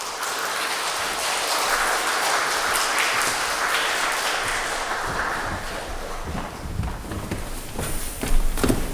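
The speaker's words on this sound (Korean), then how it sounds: "우리 서진규 목사님 나오실 때에 여러분 따뜻한 박수로 또 환영해 주시면 감사하겠습니다" A church congregation gathered for a Saturday dawn prayer service applauds to welcome a pastor, a steady wash of clapping from many hands that thins out toward the end.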